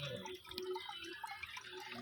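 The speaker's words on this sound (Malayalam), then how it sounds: "ഇവിടെ ചെറിയൊരു ചാറ്റൽ മഴയുണ്ട്." Light drizzle drips onto moss in a garden, making scattered, irregular soft plinks and taps that stay faint against a quiet background.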